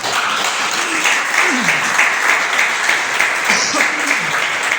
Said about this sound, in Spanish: ¿Cuánto le damos un aplauso a Jesucristo?